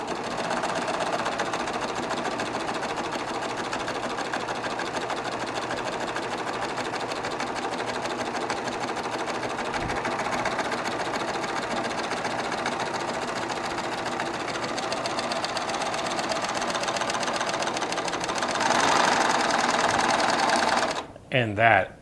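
A Baby Lock Triumph serger stitches with thick decorative 8-weight thread, a loud, steady, rapid mechanical whir running unbroken, then stopping abruptly near the end.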